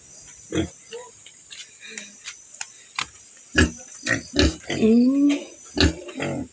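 A pig on a Filipino backyard farm gives several short grunts and oinks close by, scattered irregularly, with a squealing call near the end and people talking nearby.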